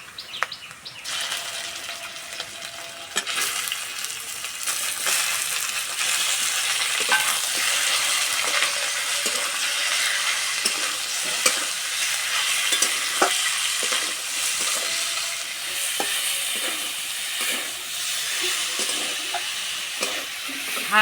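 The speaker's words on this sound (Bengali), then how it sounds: "হালকা আঁচে চিকেনটা ভাজতে থাকবো।" Chicken pieces fry over a low flame with a continuous close sizzle, broken by frequent scraping and stirring strokes against the pan and no voices.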